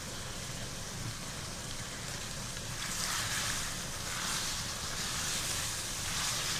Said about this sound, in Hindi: अब हम इस स्टेज पे हम अनियन डालेंगे जो हमने गोल्डन करके रखे हुए हैं